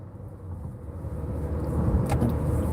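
Car driving onto the I-94 expressway near Gratiot, a steady low road and engine rumble building gradually in loudness, with a faint brief rattle partway through.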